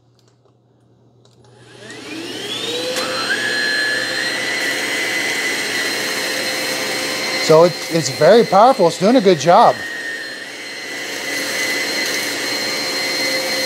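A Hoover ONEPWR Evolve Pet cordless vacuum cleaner spins up on carpet mode, rising to a steady loud whine, with several pulsing bursts as it sucks up coffee grounds, cereal chunks and dirt while someone talks over it.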